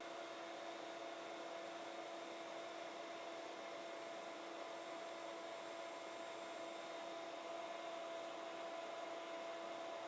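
Shop dust collection system roars steadily through one open branch line, line B, with the other two branches capped off, a constant loud airflow whine with a fixed tonal hum running unbroken and alone throughout.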